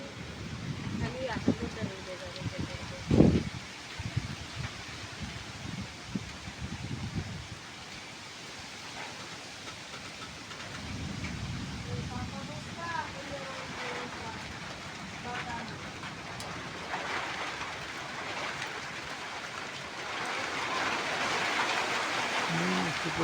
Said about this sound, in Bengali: তুফান শুরু হয়ে গেছে গাইস